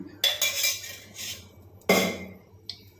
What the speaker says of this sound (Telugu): ఇప్పుడైతే ఆయిల్ పెట్టాను ఆయిల్ అయితే కొంచెం ఎక్కువే పట్టుద్ది ఈ గరిటతో మూడు గరిటలు వేసాను